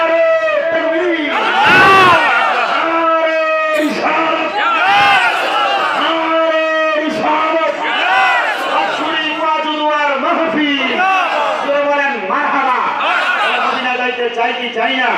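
A large crowd in a mosque shouts takbir in unison, loud and sustained with overlapping voices rising and falling, heard close and without a break.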